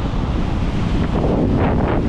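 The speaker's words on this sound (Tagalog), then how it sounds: "Sinusugod na ulit ang alon." Typhoon-driven waves rush in on a storm-hit coast beneath loud wind buffeting, a steady roaring wash of surf that swells slightly toward the end, with no talking.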